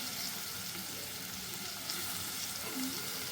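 Chopped onion and tomato fry in a pan as the base for a dried prawn curry. The sizzle is faint and steady, with no one speaking.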